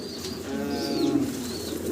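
A young male pigeon on a pigeon farm cooing close by, a low throaty rolling coo rising and settling over two seconds, with faint chirps from other birds in the background.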